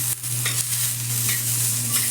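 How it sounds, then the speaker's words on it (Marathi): Pigeon peas crackle and rasp as they roast and are stirred in a dry pan, with a low steady hum underneath. "मी हे तुरीचे दाणे भाजून घेत आहे"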